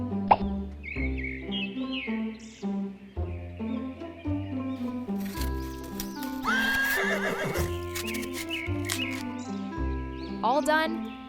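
A horse being cleaned and cared for after a wound neighs in two clear, rising whinnies, with light hoof clip-clops and other busy background sounds.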